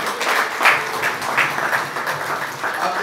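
A church congregation applauds and acclaims together, a steady wash of clapping and raised voices lasting a few seconds with no single speaker standing out.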